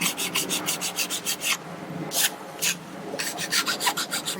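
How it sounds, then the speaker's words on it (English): A hand file rasps along the cut edge of an aluminum patch for an Airstream trailer, angled to smooth it, in quick rhythmic back-and-forth strokes, close and fairly loud, with a brief pause midway. "I'm gonna like file that at a slight angle just to smooth it"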